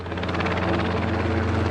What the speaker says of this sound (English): The helicopter, I'm pointing the microphone directly at it.